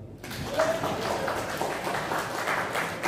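Scattered applause from a crowd, a soft continuous patter of clapping heard from a distance.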